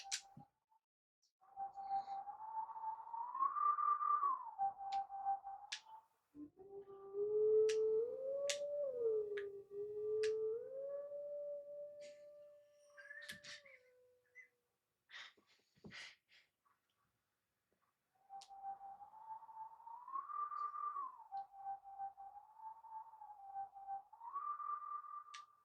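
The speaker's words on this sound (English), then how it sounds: "I can hear the whistle." Tonal whistle melodies from the game Zelda: Twilight Princess, a warbling mid-pitched line repeating in phrases with a lower sliding tone between them, clear and steady with short gaps, no talking over it.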